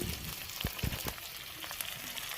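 Spice paste of roasted dried chilli and ginger-garlic sizzles steadily in a pan while it is gently stirred, a few soft scraping knocks breaking through the continuous frying hiss.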